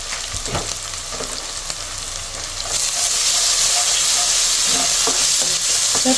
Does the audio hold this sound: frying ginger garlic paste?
yes